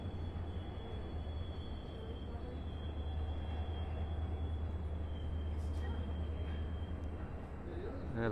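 Steady low rumble of a Union Pacific train rolling through Bailey Yard in North Platte, Nebraska, with a faint high whine and a brief squeal near the end; voices murmur faintly underneath.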